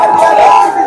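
A large crowd of protesting students in Jharkhand, rallying over an exam paper leak, chants slogans in a loud, surging roar of many voices pressing toward police barricades. The shouting is brief and continuous.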